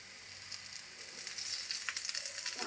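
Cauliflower (gobi) chilla batter sizzling steadily as it fries on a hot tava griddle at home, a continuous close crackling hiss that grows a little louder partway through, with no talking.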